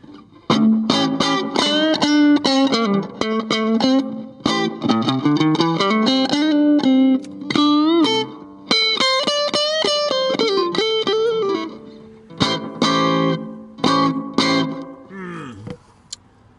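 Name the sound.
guitar through Danelectro FAB Echo pedal with echo on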